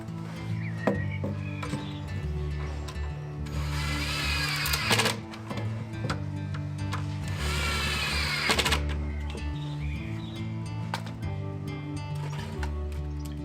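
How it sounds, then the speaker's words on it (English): A powered driver screws locating pegs into the four corners of a wooden potato tower frame, with two whirring bursts of several seconds each over a steady background, close and fairly loud. "locating pegs are screwed into the 4 corners."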